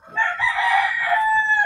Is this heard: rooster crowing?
yes